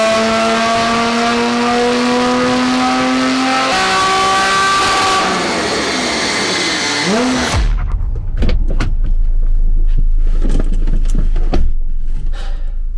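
A Porsche 991.1 Carrera 4S flat-six revs hard with its exhaust valves open, a loud rising wail that drops away, then crackles and pops from the exhaust, close and without speech.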